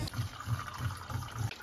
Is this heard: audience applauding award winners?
no